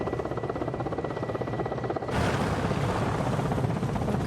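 A helicopter arrives in a scene from the TV series Chernobyl, its rotor chop pulsing steadily and then swelling louder and rougher as it draws close, with no speech.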